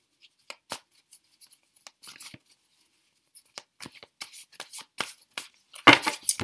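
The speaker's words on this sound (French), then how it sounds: "Donc vous mélangez vos cartes." Tarot cards being shuffled, giving soft, irregular papery flicks and riffles, close and quiet, with a brief burst near the end.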